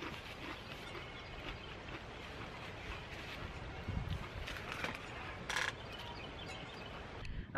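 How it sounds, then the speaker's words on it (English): Steady wind buffets the microphone outdoors before rain, a constant low rumbling roar with occasional louder gusts, heard alone without speech. "Alrighty, so I know it's gonna be windy."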